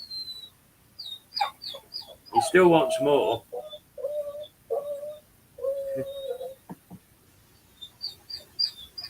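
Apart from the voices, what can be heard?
pet bird squawking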